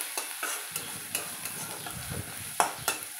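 Ginger-garlic tempering stirred in a frying pan: steady close sizzle broken by regular spoon scrapes and taps about every third of a second, with no voices.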